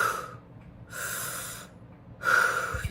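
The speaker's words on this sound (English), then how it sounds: "the first 30 breaths will be more clearing breath, and that will be breaths in and out of the mouth like this" Clearing breaths are taken in and out through the mouth, three close, forceful airy rushes separated by short silent gaps, with no speech.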